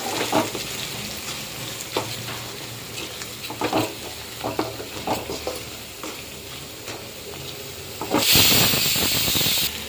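Ground paste sizzling and frying in hot oil for ulavala (horse gram) rasam, with a steady hiss broken by scraping stir strokes, then a louder burst of sizzle near the end.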